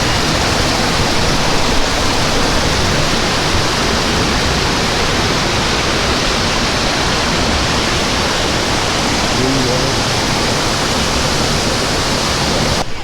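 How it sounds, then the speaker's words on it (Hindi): Randha Waterfall at Bhandardara flows full, a loud, dense, continuous roar of rushing water with no letup and no voices. "वाटरफॉल तो ये सुंदर था, ये भर के चलता है।"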